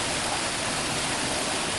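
A natural waterfall or stream gives off a steady, even rushing roar of falling water that stays at a constant level with no voices.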